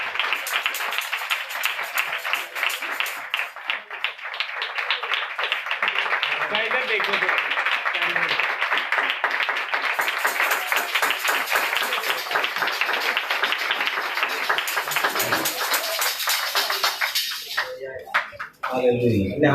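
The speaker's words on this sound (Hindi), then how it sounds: "मैं और भाई यूसुफ भट्टी आए के लिए जोरदार तालियां बजाएं।" Church congregation gives loud, sustained applause, a thick crackle of many hands clapping that carries on for nearly twenty seconds, with voices mixed in and a brief dip near the end.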